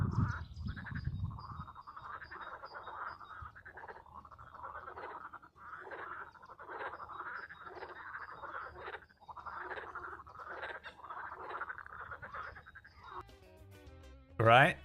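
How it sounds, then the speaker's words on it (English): Frogs croaking outdoors, recorded on a walk: a dense chorus of rhythmic, pulsing croaks repeating steadily and fairly close, starting after a brief low rumble and ending with a short burst of other noise. "me and Liam were listening to these frogs"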